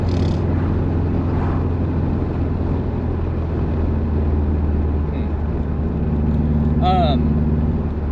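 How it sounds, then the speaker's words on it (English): A 2006 Subaru WRX wagon with a boxer engine cruising on the road, giving a steady low drone throughout, heard from inside the car with a faint brief chirp near the end. "The Boxer engine is so nice. Like, I love it, dude. It's the 2006 Subaru WRX wagon"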